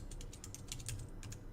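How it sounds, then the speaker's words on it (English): Quick keystrokes on a computer keyboard while typing a folder path, a fairly steady run of light clicks with brief pauses, faint and close over a low background hum. "So I'll just type in /practice."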